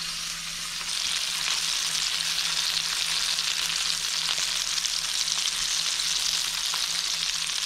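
Flathead fish fry in a pan with a steady, close hiss and crackle of sizzling oil, continuous throughout with no talk.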